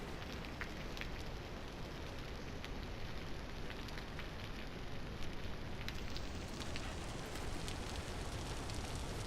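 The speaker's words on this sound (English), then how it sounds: "And we got rain coming in." Steady rain falling in the video game Vintage Story, a continuous dense hiss spread across the whole range at an even, moderate level, with no talking over it.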